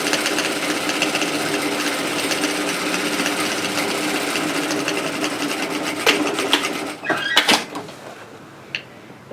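A sewing machine stitches steadily along the top edge of a tote bag, running close and continuous for several seconds before slowing and stopping with a few clicks and knocks.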